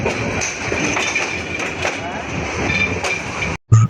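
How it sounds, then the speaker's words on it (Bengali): Karotoa Express intercity train pulling out of Santahar railway junction, a steady rumble of rolling wagons with faint rhythmic clatter heard close by, under someone talking, ending with a sudden cut. "আন্তনগর করটোয়া এক্সপ্রেস ট্রেনটি সান্তাহাট রেলওয়ে জংশন হতে ছেড়ে গেল"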